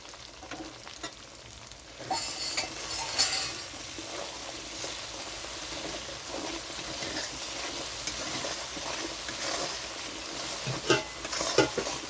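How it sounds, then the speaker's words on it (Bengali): Tilapia curry spices (salt, Kashmiri chilli powder, turmeric) sautéing in a pan, a steady close sizzle with frequent scraping stirs growing louder after the first couple of seconds, no talking. "একটু কষিয়ে নিচ্ছি। তো কষানোটা হয়েই গেছে।"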